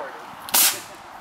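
A toy rocket launching outdoors, one sudden sharp whoosh-crack burst lasting a fraction of a second, close and loud against a quiet background.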